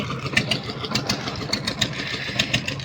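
A motorboat engine chugs in a steady, rapid rhythm, fairly close and continuous with no voices, as the boat ferries passengers across a muddy Sundarbans river.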